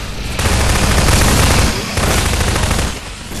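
Rapid gunfire from the video game Half-Life 2 Episode 2, loud and close, with sustained volleys that briefly dip and then resume.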